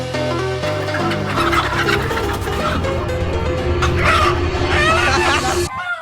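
Black roosters and hens call in a yard, with loud, repeated crowing and clucking layered over one another at close range, ending with a sudden cutoff.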